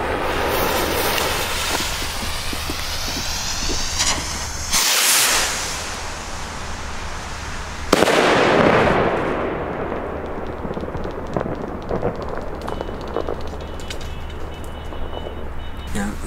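Argento 34mm shell rockets for New Year's Eve launching and bursting outdoors, sharp cracks and booms followed by crackling and hissing fallout, loud against a steady background hum.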